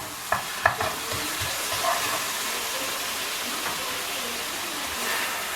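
A salad is stirred in a hot pan with garlic and soy sauce, giving a steady close sizzle broken by a few soft utensil scrapes and taps.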